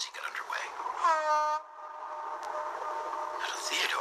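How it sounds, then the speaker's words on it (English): A tugboat whistle blows once, a steady tonal blast of about half a second, then fades into a low background rumble. "Hank let out a loud whistle as he got underway."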